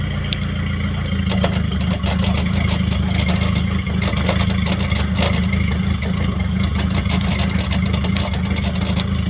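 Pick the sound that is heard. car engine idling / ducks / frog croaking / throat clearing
car engine idling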